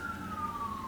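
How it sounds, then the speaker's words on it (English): A single steady emergency vehicle siren tone drifts slightly downward in pitch over less than a second, heard from outside over a low rumble of traffic noise. "Pardon the sirens, they're coming for me."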